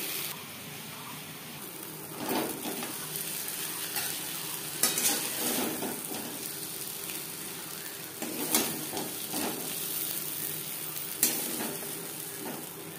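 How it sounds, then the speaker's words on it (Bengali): Spice paste frying in oil in a wok for niramish tel potol, a steady close sizzle with a few louder stirring scrapes and bursts spread through it, no voices. "কড়াইতে আবারও তেল দিয়েছি, দিয়ে দিলাম মশলার পেস্ট"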